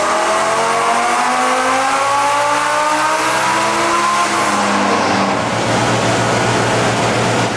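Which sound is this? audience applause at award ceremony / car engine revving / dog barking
car engine revving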